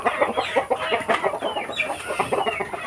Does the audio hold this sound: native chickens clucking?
yes